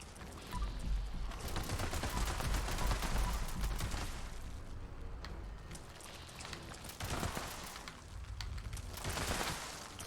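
Explosive two-shot submachine gun firing in Fallout 76, a dense, sustained burst of rapid gunfire and blasts that nearly fills the clip, easing briefly in the middle before resuming.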